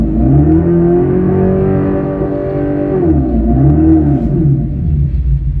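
A Dodge Charger electric muscle car's simulated Fratsonic exhaust revs up and down twice, a loud, close engine-style roar with pitch climbing and falling in smooth swells over a constant low rumble.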